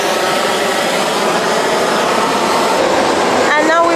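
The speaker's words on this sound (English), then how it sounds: "It's a bit noisy because the APU is running." The auxiliary power unit of a Boeing 777-300ER runs on the ramp, a loud steady whining roar that fills the scene, with faint voices near the end.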